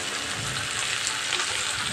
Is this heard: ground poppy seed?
yes